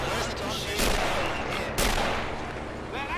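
Rapid bursts of MG34 machine gun fire in a Men of War: Assault Squad 2 battle at Dunkirk in 1940, loud and dense with other gunfire and artillery blending into a continuous roar.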